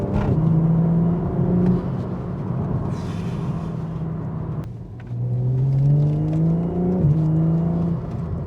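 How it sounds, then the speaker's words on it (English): A modified BMW M135i with a six-cylinder engine revs hard through quick gear changes, a loud rising growl that dips sharply at the shift and climbs again, heard from inside the car. "How can you not love the sound of a 6-cylinder?"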